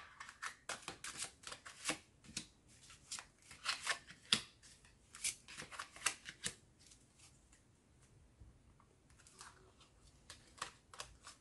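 Tarot cards shuffled by hand for a reading, a quick run of soft, close riffling snaps and flicks that thins out and pauses partway through, faint overall with no voices.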